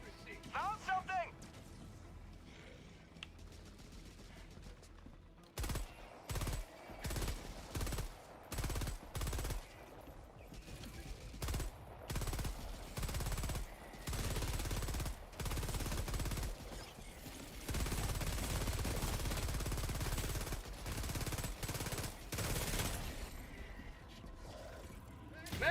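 Rapid bursts of machine gun fire in the video game Helldivers 2, loud and repeated in long stuttering volleys, with a sustained stretch of continuous firing and voices talking over the action.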